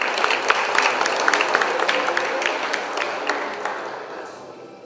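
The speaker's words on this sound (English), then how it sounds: "Ladies and gentlemen, please a round of applause for this beautiful moment." A round of applause fills a formal dinner hall with ASEAN Para Games delegates, dense close clapping with sharp individual claps on top, slowly fading out toward the end.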